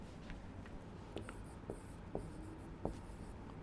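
Pen writing on paper while geography notes on mountains, plateaus and plains are marked out, a quiet steady scratching with a few sharper strokes over low room noise.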